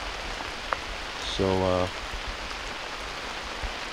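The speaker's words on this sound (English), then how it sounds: "It started raining." Steady rain patters on a woodland campsite, a constant hiss running through the whole stretch, with a short word spoken briefly near the start.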